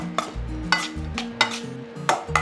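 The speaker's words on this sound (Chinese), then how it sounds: "把它拌一拌" A spoon stirring bruschetta topping in a bowl, repeated scraping sweeps with a light metallic tap at each turn, about five even strokes, close and clear with no talking.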